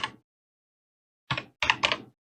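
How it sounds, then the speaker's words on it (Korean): Typing on a computer keyboard while writing a C program, a few close, crisp keystroke clicks in short bursts separated by silence. "지금 타이핑 해가지고 프로그램 만들었습니다."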